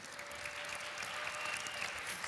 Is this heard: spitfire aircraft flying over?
no